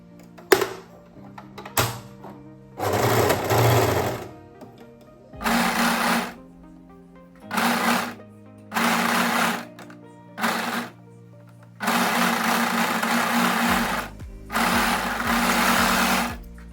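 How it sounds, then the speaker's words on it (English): An overlocker sews along the bottom edge of a backless summer dress's fabric in loud, close bursts of fast mechanical whirring, each lasting one to two seconds, separated by short pauses, with no talking. "then you can go ahead and overlock that bottom edge"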